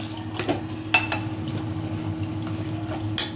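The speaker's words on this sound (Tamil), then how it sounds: "இப்போ வந்து தண்ணி ஊற்றிக்குவோம்" Water is poured into a pot of cowpea gravy cooking with masala, giving a soft liquid splash and gurgle among clinks of utensils against the pot over a steady stove hum.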